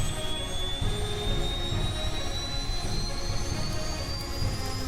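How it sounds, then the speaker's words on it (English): A turbine aircraft engine runs steadily in Kerbal Space Program, giving a loud, continuous roar with a high whine that slowly climbs in pitch throughout, close and alone. "Got that turbine sound, quite distinct from our piston-driven engines."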